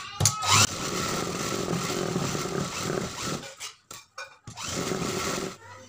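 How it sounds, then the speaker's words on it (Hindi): A sewing machine stitches the seam of a blouse in loud, close bursts of rapid whirring, with brief pauses between runs. "अब इसी तरह से हमें दूसरी साइड भी सिलाई लगा देना है।"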